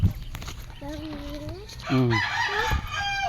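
A hen and chickens drinking water cluck and crow nearby, with a drawn-out call, a short rising crow and several more clucks over continuous background noise.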